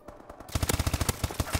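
Rapid automatic gunfire in the shooter game Call of Duty: Advanced Warfare, a quick steady burst of loud, punchy shots that starts after a brief lead-in of quieter pops and runs on without talk.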